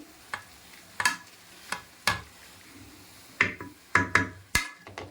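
Boiled vegetables for pav bhaji being mashed with a masher in a pan, heard as a run of about ten sharp, uneven thuds and squelches, close and fairly loud, with short pauses between strokes.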